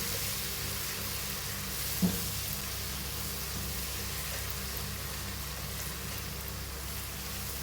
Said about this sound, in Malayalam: അതും എണ്ണയിൽ കിടന്ന് നന്നായിട്ടൊന്ന് മൂത്ത് നല്ല കളറൊക്കെ മാറി വരണം